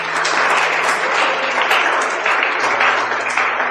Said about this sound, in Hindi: इसके माता पिता के लिए भी एक बार जोरदार तालियां